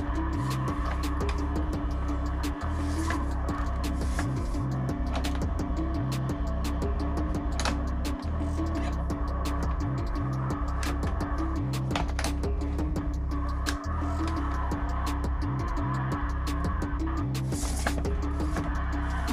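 Car drifting in the CarX racing video game, a loud, constant engine drone with sustained tire screech and small ticking clicks running through the whole stretch, no one talking.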